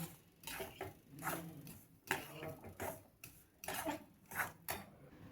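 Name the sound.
mixing ragi batter with grated coconut and ash gourd paste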